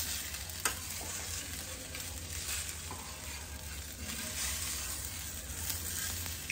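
An onion and tomato dosa sizzles and fries on a hot pan, a steady bright crackle running throughout with faint stirring or scraping touches and no talk.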